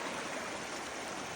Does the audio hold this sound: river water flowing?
yes